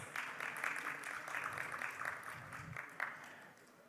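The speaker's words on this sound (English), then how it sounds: "Let's give him a warmer round of applause" Faint, steady round of applause from an audience at a cashew industry round table event, lasting a few seconds and tapering off.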